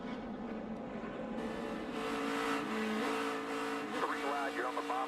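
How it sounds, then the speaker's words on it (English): On-board NASCAR race car engine at the 2015 Ford EcoBoost 400, roaring steadily at high revs during a multi-car wreck, with shifting pitch and faint radio chatter in the background. "I want you to listen to the engine sound."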